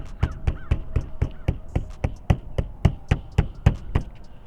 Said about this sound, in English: So I'm gonna go up here and hit my car.